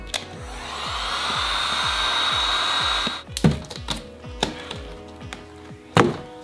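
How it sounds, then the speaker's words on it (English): Heat gun blowing a steady, loud airy whoosh with a high whine for about three seconds while loosening adhesive on a BMW interior foam panel, then shutting off, followed by scattered knocks and handling clunks. "So let's just use a heat gun to loosen things up."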